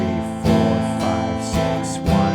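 Acoustic guitar strummed in a steady down-up pattern, chords ringing out with a few sharper accented strokes, close and clear, no voices.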